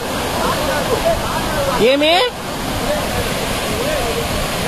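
Mangampeta waterfall in Kurnool pours in a steady, loud, broad rushing roar that runs the whole time, with people talking over it and a brief louder voice in the middle.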